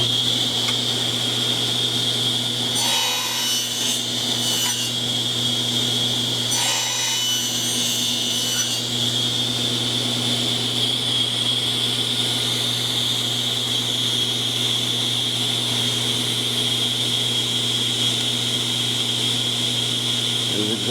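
A table saw cuts a 1/8-inch dado in wood for a handmade stein: a loud, steady motor whine holds for the full stretch, with two short rasping bursts of the blade biting into the wood early on.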